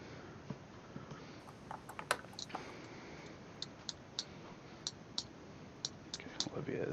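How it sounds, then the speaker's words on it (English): Soft scattered clicks of typing on a computer keyboard, irregular key taps at close range with brief pauses between bursts, alongside quiet murmured speech. "Olivia is typing something."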